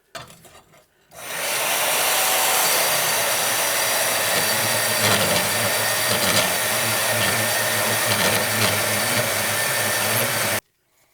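Power tool cutting a mosaic Damascus steel billet into sections in a knifemaking shop: a loud, steady, broadband grinding whine starts abruptly after a second, holds for about nine seconds, then stops sharply, with no talking.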